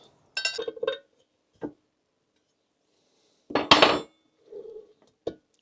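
Screws being fitted to a 70cc nitro racing engine: small, sharp metallic clinks and taps in scattered bursts, close and fairly quiet, with near silence between them.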